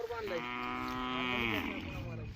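A single long, loud moo from a racing bull, drawn out for about two seconds with a rich, rising and falling tone, close by.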